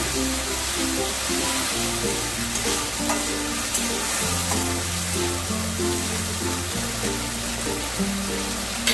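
Eggplant sizzles and fries steadily in a pan over a medium gas flame for doi begun, with stirring scrapes and a continuous crackle throughout, close and fairly loud.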